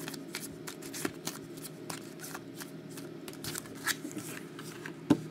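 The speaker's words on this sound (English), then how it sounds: "And I'll shuffle these up and lay them out." Trading cards from a 2012 Prominence football box are shuffled by hand, a steady run of soft riffling flicks and slaps close up, with a sharper snap near the end and no talking.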